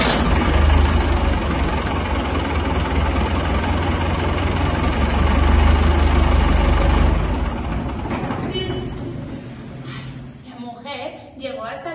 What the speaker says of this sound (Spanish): todo el mundo sabe que el tractor hace un ruido